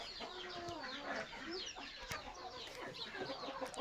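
A flock of chickens at a rural Thai village home clucks and chatters continuously, several birds close by with overlapping calls against outdoor background noise.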